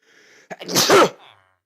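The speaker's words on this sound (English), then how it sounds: "Oh god, I gotta sneeze." A single loud sneeze, preceded by a brief sharp intake of breath, close and alone.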